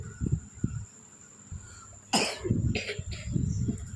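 A young child coughs a few times nearby, short harsh bursts with quiet gaps between them, one louder cough standing out in the middle.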